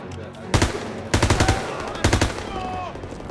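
Bursts of machine-gun and rifle fire crackle in a Call of Duty WW2 battle, three rapid volleys of close, loud shots separated by brief pauses, with shouting voices underneath.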